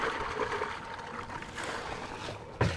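Hands rinsed with water on a boat deck during oyster tonging, a close, continuous splashing and trickling wash ending in a brief louder splash.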